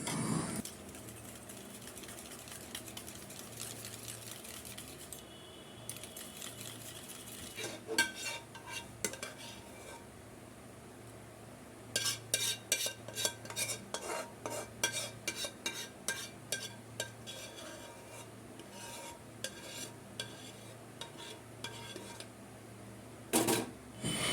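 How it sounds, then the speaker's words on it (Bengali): Mango pulp is stirred into sour yogurt in a bowl, with soft spoon scrapes and clusters of sharp clinks against the bowl, quiet and close, grouped in bursts with pauses between them. "এবার আমি কিন্তু এর সাথে মিশিয়ে নেব, মানে টক দইটার সাথে মিশিয়ে নেব"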